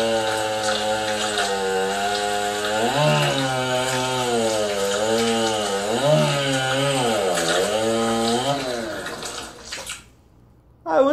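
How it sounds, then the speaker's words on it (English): A video-game chainsaw revs with a wavering, sawing motor tone that rises and falls in pulses, loud and up close, before cutting off abruptly near the end. "Why does it have a chainsaw?"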